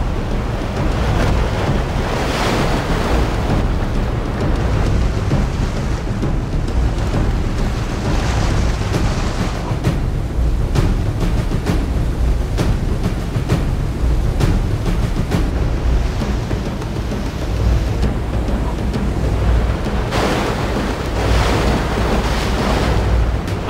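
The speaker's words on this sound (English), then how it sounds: "And here's some more rapids here." River rapids rush and churn continuously around a homemade wooden raft in the wild, a loud, broadband roar with wind buffeting the microphone.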